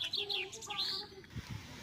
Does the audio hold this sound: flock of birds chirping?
yes